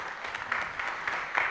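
Audience applause at a youth SDGs pre-conference, a dense wash of clapping from a crowd that holds steady and fairly quiet for its whole length.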